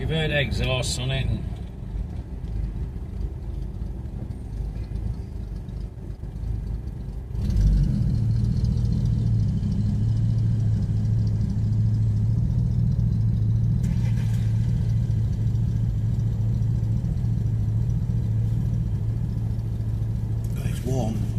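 A classic Lincoln Continental Mk III idles with a steady low engine and exhaust rumble, a brief bout of talk at the start before the running note settles in, holding near and even throughout.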